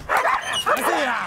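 Police dogs bark and yip in quick excited bursts during pursuit training in South Africa as a trainer playing a suspect teases them. The barking is close and loud.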